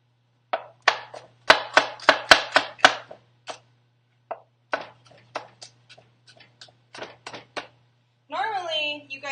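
Sharp knife chopping celery on a board, a quick burst of loud close taps followed by sparser scattered cuts, then a voice speaking briefly at the end.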